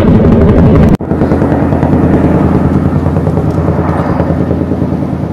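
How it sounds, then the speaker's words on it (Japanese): A large military transport helicopter's rotor thumps loudly and steadily overhead, a constant beating drone that fills the whole stretch after a brief sharp cut near the start. "明らかにこれ軍用ヘリコプターですね。"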